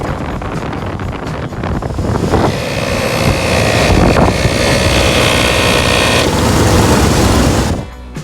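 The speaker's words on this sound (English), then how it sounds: "Patrick's going to start the Jeep." A Jeep engine cranks and catches, then settles into a steady running drone, with a higher whine from an air compressor running off the engine on a tire job, continuous and close before cutting out near the end.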